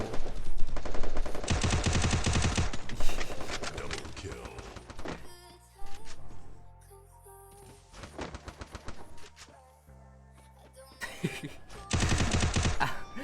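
Rapid bursts of automatic gunfire from a video game, loud and sustained in several long volleys separated by brief quieter gaps.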